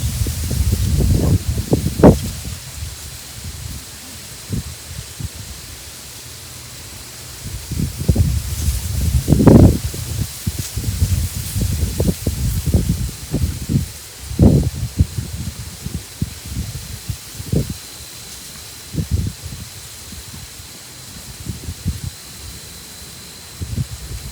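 Paper crinkles in irregular bursts while fountain pen ink swatches are handled, near and fairly loud, with scattered rustles and taps alone and no talk.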